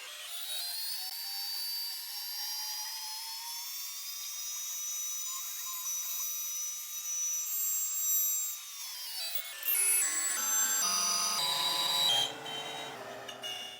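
A CNC router cuts out a sign backer: a high, steady whining spindle tone holds, then drops and wavers as the cut progresses, with a rougher grinding texture near the end.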